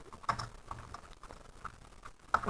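Quick, light keystrokes on a computer keyboard come in soft, irregular clusters, close and quiet, with a couple of sharper taps standing out.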